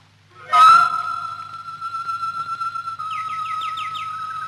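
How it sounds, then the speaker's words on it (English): Birds in an indoor aviary: a sudden clear whistled note holds steadily, later joined by a run of quick rising chirps, close and alone without talk. "I went into the aviary as she suggested, and I listened to the birds."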